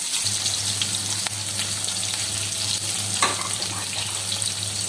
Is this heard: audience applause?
no